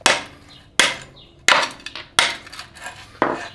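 Hammer blows driving a 19 mm suspension bolt out of an Audi B5 during a coilover install: five sharp, loud metallic strikes spaced roughly evenly, each ringing briefly, with no talk.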